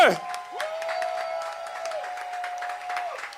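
A church congregation applauds and cheers in praise of God, a dense, lively burst of clapping mixed with crowd voices, moderately close, alongside a sustained tone that starts and stops twice.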